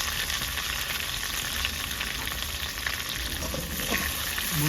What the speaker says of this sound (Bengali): বাকিগুলো এইভাবে ভেজে নেবো বন্ধুরা